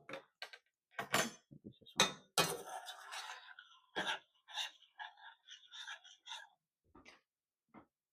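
Spoon clinking and scraping in a bowl while peanut cluster ingredients are mixed, irregular close taps and rattles with quiet gaps between them, at a low level with no talking.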